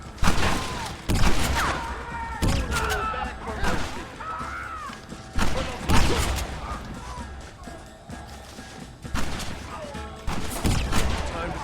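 Repeated gunfire in Red Dead Redemption, a Western video game shootout, with bursts of shots and heavy impacts recurring across the scene, mixed with game voices and music-like background.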